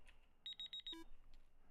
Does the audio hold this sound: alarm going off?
yes